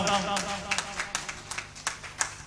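Audience clapping at a poetry gathering, a run of sharp, irregular hand claps of moderate loudness blending with a murmur of voices.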